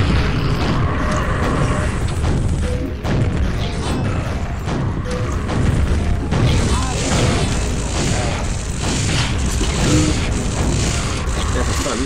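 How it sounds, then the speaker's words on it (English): Rocket explosions and heavy weapon fire during rocket jumps in Quake 25th Anniversary Edition, loud repeated booms and crashes layered over continuous game noise, with someone talking over it. "we are going to do some fun rocket jumps with a pentagram"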